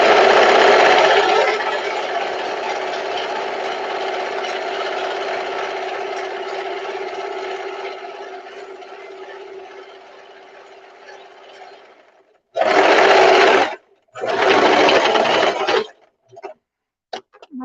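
Sewing machine stitching rows of a skirt, a steady mechanical whir running continuously for about twelve seconds, then two short loud bursts of stitching and a few brief taps near the end.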